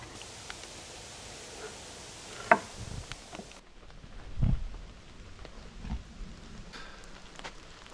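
Steady rain falls at a forest campground on the AuSable River in Michigan's Huron National Forest, a soft continuous patter with a few louder drops and rustles close by, no talking.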